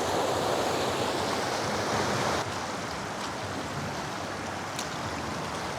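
Strong current of the Labi River in Bongabon, Nueva Ecija, fed by mountain water, rushes in a loud, continuous broadband roar that eases slightly partway through, with no talking.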